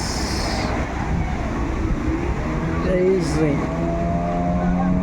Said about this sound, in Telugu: ఇంకా మోటార్ బోట్ వస్తుందండి. వెళ్తుంది మోటార్ బోటు.